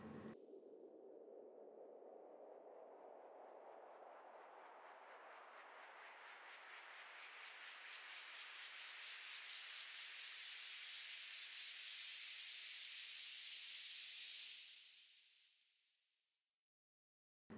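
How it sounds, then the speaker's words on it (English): Electronic riser effect from a Vengeance sample pack: a noise sweep climbing steadily in pitch and brightness for about fourteen seconds, then fading quickly to silence before a brief click at the end. "The first is a riser, straight from a Vengeance pack,"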